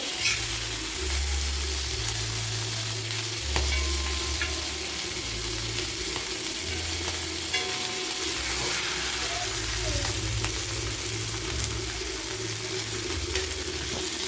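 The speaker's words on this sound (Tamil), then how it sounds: "2 சைடும் நல்லா வேகணும், டீப்பாக ஃப்ரை ஆகணும் நமக்கு" Ayala mackerel fish deep-fries in oil with a steady broad sizzle and faint scraping, close up, while a voice hums along beneath it at intervals.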